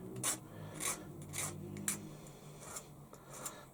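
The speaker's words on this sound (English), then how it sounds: "Just deburring the edge" A hand tool deburrs the edge of a freshly machined part for a Stuart Models S50 model steam engine, producing short rasping scrapes in a loose rhythm of about six strokes, close and quiet with no talk.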